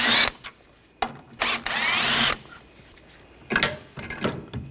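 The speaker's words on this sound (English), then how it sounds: "Use a 10mm socket, take these 2 bolts out" Power tool spinning a 10mm socket to remove two bolts holding the coolant reservoir on a 2013-2022 Buick Encore 1.4L, running in several short whirring bursts of one to two seconds separated by pauses, close and alone.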